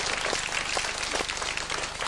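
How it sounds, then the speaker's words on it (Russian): A television variety-show studio audience breaks into sustained, even applause, a dense wash of clapping that continues without a break. "Бурные аплодисменты."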